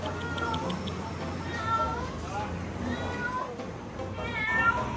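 An old shop cat in Hong Kong meows several times, short rising cries close by over a steady hum of shop and street background noise.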